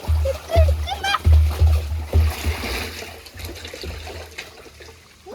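Water splashes and trickles as it is tipped out of a pond or ditch while fish are being caught, with loud low-end sloshing pulses that ease off toward the end.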